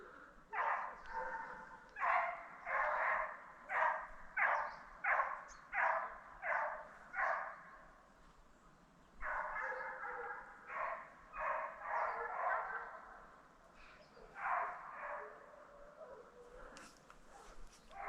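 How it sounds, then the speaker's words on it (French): A pack of hunting dogs baying while chasing deer in Corrèze, a run of rhythmic repeated barks and yelps at a distance, fading and resuming over steady outdoor quiet. "je vous mets la petite menée des chiens, écoutez bien, c'est assez sympa."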